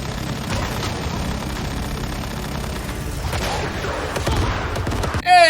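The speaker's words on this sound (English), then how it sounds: "if you're like me and the boss drops their Gatling gun, make a beeline towards it before anyone else can and open up fire" A Gatling gun firing in the video game Once Human, a dense, sustained rattle of gunfire under a busy mix of game effects, ending with a sharp burst of noise.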